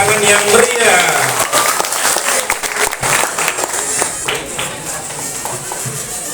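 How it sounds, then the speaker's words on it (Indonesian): Close, lively applause from an elementary school farewell ceremony audience, bursts of clapping that swell and ebb while an announcer and other voices speak over them. "Beri tepuk tangan yang meriah."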